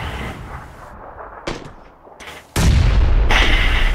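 Grenade explosions in the video game PUBG. Heavy booms and bursts, the loudest one sustained near the end, with no speech over them.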